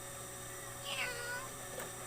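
A person imitates a cat's meow, voicing a flirtatious, whiny cat call that rises in a brief wavering cry over a steady background hum.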